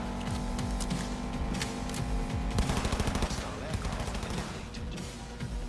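Rapid automatic gunfire from a Cyberpunk 2077 firefight, dense and continuous bursts filling the clip, with a voice talking underneath.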